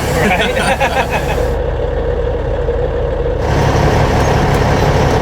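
The big rig truck Redneck Low drives with a loud, steady engine drone and road rumble heard from inside the cab, with voices murmuring over it.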